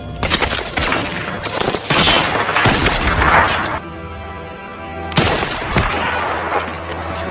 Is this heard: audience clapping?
no